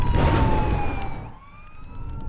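A wailing emergency vehicle siren sweeps down in pitch amid loud traffic rumble, then fades and continues more faintly.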